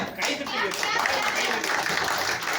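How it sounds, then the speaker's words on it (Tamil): Scattered hand claps rise at a state-level NGO discussion meeting in Chennai, mixed with voices and hall chatter, a brief uneven patter rather than full applause. "அந்த பிள்ளையாச்சும் கைத்தட்டு"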